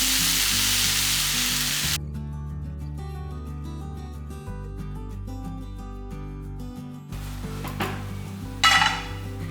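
Tomatoes and okra frying in a pan for a roadside-style okra chutney: a loud sizzle at first that cuts off, then quieter pan and utensil clinks with a brief burst of sizzling and a scrape near the end.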